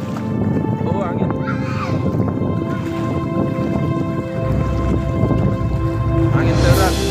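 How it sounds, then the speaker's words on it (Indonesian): Strong wind gusts across a flood-hit village, Desa Ujung Limus, as a loud rumbling buffet mixed with falling rain, while voices talk over it throughout. "Angin deras."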